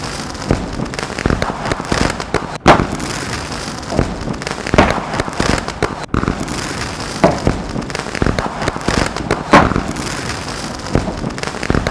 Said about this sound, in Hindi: तो अब हम भी पटाखे फोड़ते हैं थोड़ा थोड़ा करके